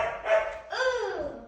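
A puppy gives two short, high yipping barks in quick succession, close and clear, with no talking.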